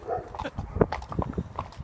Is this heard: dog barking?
yes